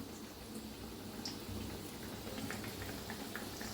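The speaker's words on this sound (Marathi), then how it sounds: "किती तेलात बसतात तेवढे तळून घ्यायचे" Bread pakoda frying in hot oil, a soft continuous sizzle and bubbling crackle, fairly faint and steady throughout, with no voices.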